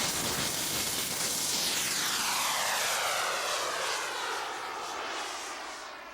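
Remote-controlled model jet airplane passing overhead, a loud whining engine roar that sweeps and shifts in pitch as it flies by, then fades slightly toward the end.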